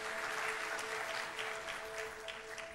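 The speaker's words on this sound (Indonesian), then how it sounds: "Come on, berikan tepuk tangan." Applause from a church congregation in a hall, a steady, even wash of many hands clapping, fairly faint and distant, with no clear speech over it.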